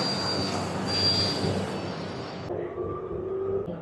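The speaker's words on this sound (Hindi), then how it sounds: "यहाँ पर हमारी नमो भारत मेट्रो आ चुकी है।" A Namo Bharat metro train rumbles steadily along the track as it arrives at a station, its broadband noise changing partway through as it slows, with a faint squeal of wheels.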